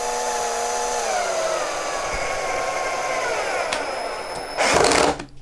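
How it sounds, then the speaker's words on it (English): A power drill whines steadily, its pitch dropping as it drives a screw, ending in a brief louder burst. "I'm just going to drill down into it"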